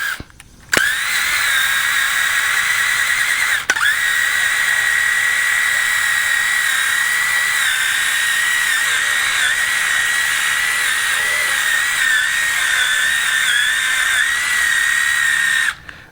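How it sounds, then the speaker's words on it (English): A steady high-pitched power drill whine as a drill brush scrubs a worn car carpet, running continuously for about fifteen seconds, starting and stopping abruptly, loud and close with no talking. "I'll come in with the drill brush."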